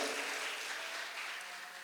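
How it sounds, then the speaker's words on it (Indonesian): A church congregation at a live service applauds, a faint, distant, dense patter of clapping that holds steady and then eases slightly. "kasih tepuk tangan dulu yang meriah buat Allah kita"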